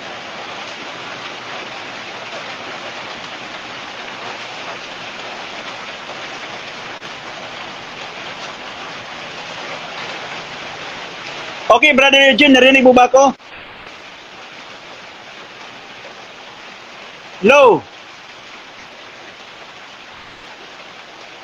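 Steady rain hisses evenly for the whole stretch, a constant wash of noise, while voices briefly break in over a call partway through.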